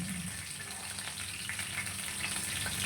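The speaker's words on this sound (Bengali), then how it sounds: "আমরা গরুর চর্বিতে গরুর ভুঁড়িটা ভাজা ভাজা করি" Beef tripe frying in rendered beef fat, a steady close hiss and crackle of sizzling oil that stays level throughout with no voices.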